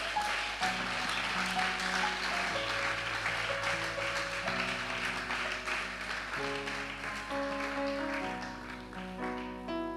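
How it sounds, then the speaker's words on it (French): A church congregation applauds for the Lord in a sanctuary, a continuous crackle of many hands clapping under sustained organ or keyboard chords. "Est-ce qu'on peut acclamer pour le Seigneur?"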